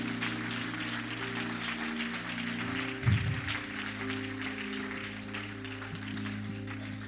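A church congregation applauds in a steady wash of clapping that holds throughout, with a brief louder thump partway, alongside a sustained low musical hum.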